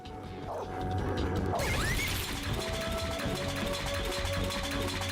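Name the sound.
trap being triggered in a video game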